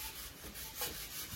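Utensils are scrubbed with Pitambari powder, making faint, continuous rough rubbing strokes in an even rhythm with no voices.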